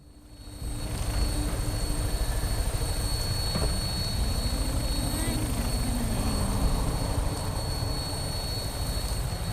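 Aircraft in flight in the video game Fallout 4, a steady loud engine drone with thumping rotor-like pulses that continues without a break.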